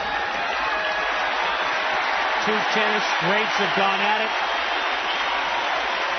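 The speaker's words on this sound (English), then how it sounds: "And the applause, I think, is mostly directed at the competitiveness of Jimmy Connors." A crowd at a 1989 US Open quarterfinal tennis match claps in a dense, steady wash of applause, heard from a distance throughout while a commentator speaks over it.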